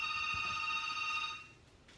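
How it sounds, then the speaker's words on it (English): A telephone rings indoors with a bright, steady electronic tone that holds for over a second and then stops, leaving quiet room noise. "There's a phone ringing."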